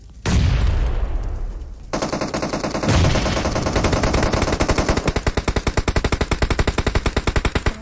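Gunfire in the PUBG Mobile battle royale game on the Erangel map: a loud opening shot, then sustained rapid automatic fire building into a steady, evenly spaced stream of bursts, close and dominant.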